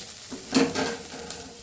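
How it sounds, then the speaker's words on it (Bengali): Carrots and potatoes fry in a pan with a soft crackling sizzle and a short stirring burst near the middle, close and fairly quiet over about a second and a half. "এখানে করছি আমি গাজর আলু ভাজা"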